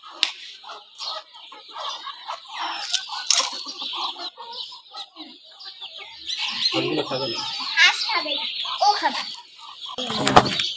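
Free-range desi hens, among them a white one, cluck and chirp at close range in bursts throughout on a farm, with voices talking over and between the calls.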